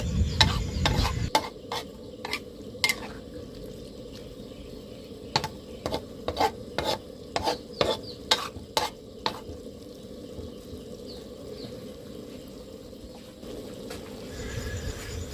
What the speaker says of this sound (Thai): เราผัดมาสักพักเราก็จะได้ที่แล้วนะคะ